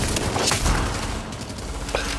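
Video game gunfire crackles loudly and continuously in dense bursts, with heavy booming hits near the start and a sharp report near the end, all close and harsh.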